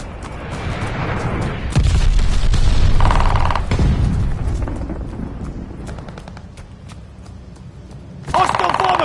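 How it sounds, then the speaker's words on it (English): Gunfire and glide bomb explosions rumble through a video game battle, with heavy booms and rattling bursts that swell loud and then ease off, while game voice lines call out over the noise. "Enemy glide bomb incoming!"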